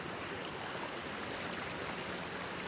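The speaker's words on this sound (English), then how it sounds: "Look at the muddy water. It's overflowing." Muddy, overflowing river water rushing under a bridge, a dense, continuous roar of flowing water heard close and steady throughout, with no voices.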